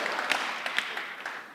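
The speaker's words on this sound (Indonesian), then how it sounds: "Tepuk tangan bagi Allah kita" A congregation applauds briefly during an online church service on forgiveness. The clapping is a steady, moderately loud crackle, with a few sharper individual claps poking through.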